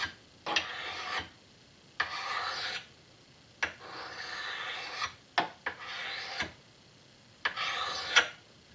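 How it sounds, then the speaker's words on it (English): An India stone is dragged across the edge of a cheap axe, giving about eight slow rasping strokes, each about a second long, with short pauses and sharp taps between them, close and clear with no speech. "I'm going to drag away from the edge with an India stone"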